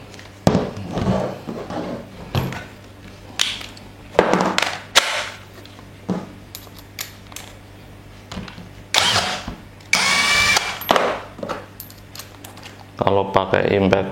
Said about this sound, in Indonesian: Kalau pakai impact wrench buat skrup ini khusus untuk mengendorin ya, atau untuk melepas saja